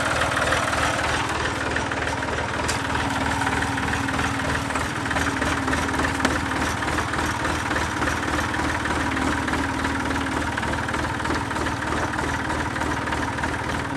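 A tractor engine idles steadily and loudly throughout. The tractor is stuck in clay, with no weight on the back and its tires clogged with clay. The low, even rumble carries on without a break or any talk.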